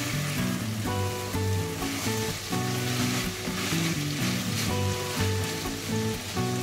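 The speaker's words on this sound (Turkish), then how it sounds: "Biraz da sarımsaklarla kavuracağım." Chicken pieces and garlic sauté in a hot pan, giving a steady, close, dense sizzle and crackle with no talking.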